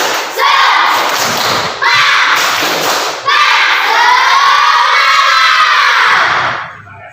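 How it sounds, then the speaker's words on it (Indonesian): A school class performing the rhythmic 'tepuk semangat' spirit clap, loud close bursts of clapping and children's shouting in three phrases, ending in a longer sustained cheer. "mari kita melakukan tepuk semangat"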